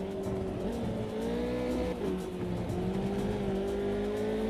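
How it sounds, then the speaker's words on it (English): Race car engine in a sim racing game, a steady loud drone whose pitch bends and shifts as the car catches a slipstream, with tire noise underneath and no talk. "Did you hear the engine note change then as we've got a bit of slipstream?"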